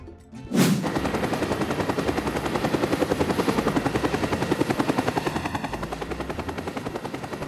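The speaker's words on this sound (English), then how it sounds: "Police helicopter." A police helicopter's rotor chops in a fast, steady rhythm, loud and close, holding for several seconds after a sharp opening burst.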